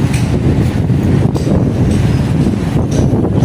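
Steady, loud wind buffeting the microphone on a street in Sorsogon City, Bicol, a continuous low rumble with no voices.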